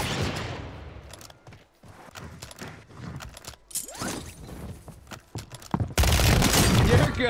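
Scattered video game gunshots and mechanical clicks ring out in short bursts, with a louder dense volley near the end and a voice talking in between.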